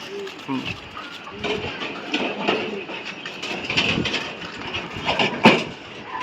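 Pakistani high flyer pigeons coo and flutter around a cage at a sale, soft coos and wing rustles mixed with steady conversation and brief background clatter.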